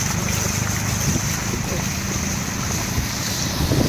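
Loud wind buffeting a microphone over the rumble of a boat moving through flood water in Silchar, India, with a faint voice now and then.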